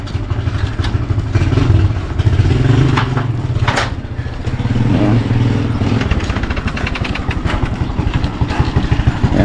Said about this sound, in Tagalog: Lalabas lang yung motor.